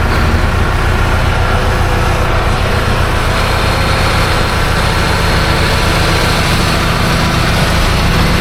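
A John Deere 8RX tractor's heavy diesel engine runs steadily and loudly throughout, a dense low rumble with constant mechanical texture and no voices.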